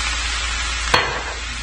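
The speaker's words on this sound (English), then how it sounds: "add the soy sauce around the wok, and you want to let it get that burnt texture" Soy sauce poured around the edge of a hot wok with fried rice sizzles loudly and steadily, with a brief sharp burst partway through and no voices.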